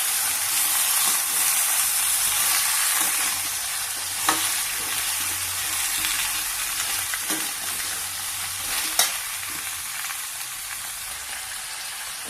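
Chopped radish frying in a pan for a village-style thuvaiyal gives a steady, dense sizzle throughout, with a few soft stirring knocks, close and fairly loud, and no one speaking.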